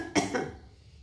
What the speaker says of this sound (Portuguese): Tossi muito, tossi demais.